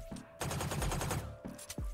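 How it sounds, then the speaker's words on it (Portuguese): A Sublime Phantom rifle in Valorant fires a rapid automatic burst of sharp, crisp shots in quick succession, followed by a couple of isolated single shots after a short pause, clear and close with no talking. "O som do disparo."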